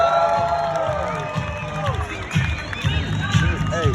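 A Vancouver crowd at a Beat the Crowd event cheers and whoops, with shouts and voices rising and falling over a steady roar of noise.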